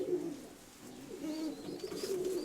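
Pigeons coo in a low, soft, repeating murmur close by, several overlapping birds with a few higher chirps mixed in, no talking.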